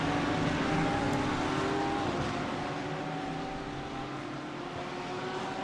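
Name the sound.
GT3 race car accelerating in a racing video game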